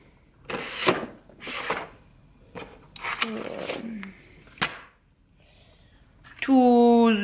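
A classroom drawer is slid open and shut several times as a teacher sorts daily lesson items, giving scattered wooden scrapes and knocks, followed by a brief high squeaky tone at the end.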